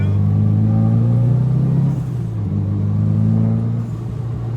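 JDM drift cars, a Toyota JZX90 and a Nissan R32, running at Circuit of the Americas, heard as a loud, close engine drone that shifts pitch as the revs change, with no pauses.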